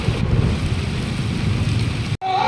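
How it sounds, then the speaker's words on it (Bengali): Steady heavy rain at a village ashram hisses and patters continuously, close and loud, with a brief cut near the end before the downpour resumes. "দেখা যাক বৃষ্টি কখন থামে"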